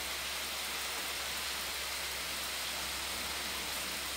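Rain falls steadily in the afternoon, a faint, even hiss that holds unchanged throughout with no voices.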